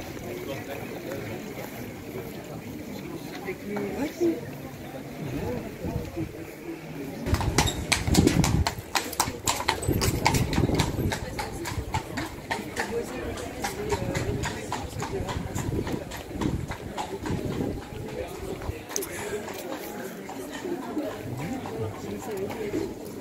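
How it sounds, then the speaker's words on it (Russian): Horses pulling carriages through the streets of Bruges, clip-clopping hooves on the cobbles that grow loud and rapid in the middle stretch, mixed with street ambience and a person talking. "А так они обычно здесь, все лошадки."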